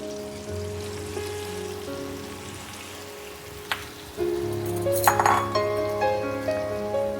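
Mutton pieces dropped into a hot cooking pot, making a sudden sizzling hiss that swells midway and continues, with a few metallic clinks against the pot over a quiet kitchen background hum.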